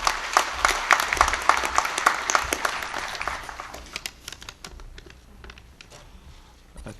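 Loud audience applause at a Korean trade union delegates' convention, close and dense at first, then thinning into scattered individual claps as it dies away.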